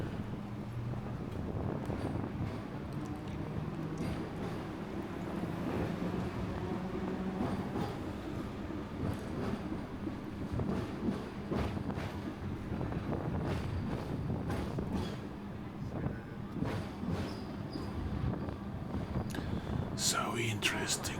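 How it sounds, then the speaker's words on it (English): A Hong Kong double-decker tram rolling along, a steady rumbling rail clatter with rattles and wind noise over twenty seconds, ending in a few sharp metallic clanks, heard from on board. "So interesting, these double-decker trams."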